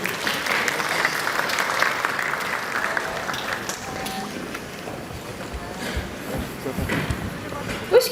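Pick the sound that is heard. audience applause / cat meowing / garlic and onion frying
audience applause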